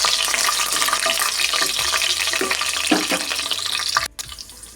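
Coconut pieces fry in hot oil with mustard seeds for a beef curry, giving a loud, dense, continuous sizzle with stirring scrapes that breaks off abruptly near the end.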